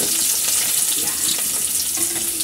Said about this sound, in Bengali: সুন্দর করে লাল লাল করে ভেজে নিব